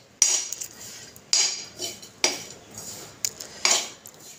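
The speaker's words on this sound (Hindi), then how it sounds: "अब इन सबको हम अच्छे से मिक्स कर लेंगे।" A spoon clinks sharply against a bowl while bread, peanuts, onion and green coriander are mixed for a breakfast dish. There are about five distinct metallic knocks at irregular intervals, each followed by a soft scrape, close up and with no talking.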